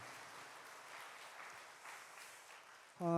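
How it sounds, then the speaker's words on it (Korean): A crowd claps steadily at moderate distance in a church service, sustained applause before a voice cuts in at the end. "다시 한번 고생하시고 수고하시고 멋지다고 크게 박수로 격려해 주시기 바랍니다."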